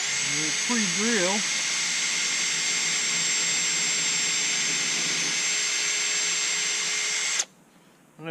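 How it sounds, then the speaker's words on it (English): A power drill pre-drilling holes in wood whines steadily at high pitch for about seven seconds, then cuts off abruptly, with a brief voice at the start. "We'll pre-drill."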